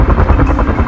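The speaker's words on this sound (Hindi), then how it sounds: "लगता है जैसा कोई छोटा सा हेलीकॉप्टर।" A small toy helicopter buzzes past in a cartoon setting, its rotor giving a steady, loud, rapidly pulsing whir that fills the whole second without any voices over it.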